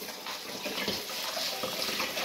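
Tap water running steadily into a bowl or sink while sushi rice is rinsed, a continuous close hiss and splash with light clinks of stirring.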